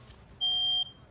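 A single electronic chirp from a household smoke alarm whose battery has been removed, one sharp high-pitched beep lasting under half a second against a quiet room, no voices.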